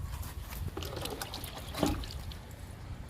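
Liquid fertilizer poured onto a marigold plant, a soft continuous trickle and splash with a low rumble underneath, fairly quiet and steady with a slight swell midway.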